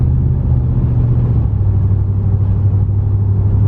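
Ram 1500 Hemi truck with a 3600 stall converter installed, the engine idling close by with a deep, loud rumble and the revs slightly wavering up and down.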